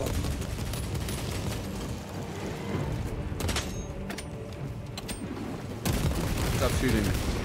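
Dense, continuous gunfire rattles through a Warhammer 40k Space Marine 2 fight, heavy bursts layered over booms and mechanical clatter, with a voice speaking over the din.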